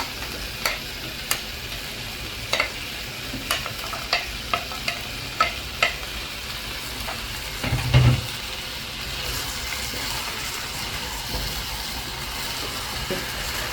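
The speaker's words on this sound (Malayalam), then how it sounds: "ചിക്കനും ക്യാരറ്റും ഉരുളക്കിഴങ്ങും നന്നായിട്ട് വഴറ്റി വന്നിട്ടുണ്ട്." Chicken, carrots and potatoes are stirred and sauteed in a pan for chicken stew, with a quiet steady sizzle under regular clacks and scrapes of a spoon, then a brief louder scrape near the middle.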